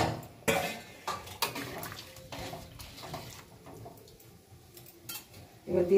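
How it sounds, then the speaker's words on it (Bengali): Warm water is poured into a pan of simmering chicken curry, with metal pot and utensil clatters and a low liquid wash in the background. "আমি এখন দিয়ে দিচ্ছি উষ্ণ গরম জল।"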